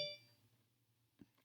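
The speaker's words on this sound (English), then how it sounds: "Did not put my phone on silent before this." A phone gives a short, faint notification chime at the start, then a quick second tone at the very end, with near silence and a low hum between.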